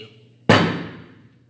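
One sharp, ringing hammer strike lands cleanly against a quiet background, its resonant tail fading over about a second.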